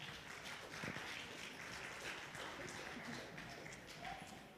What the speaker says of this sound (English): Can we get a round of applause for these kids that did such a great job?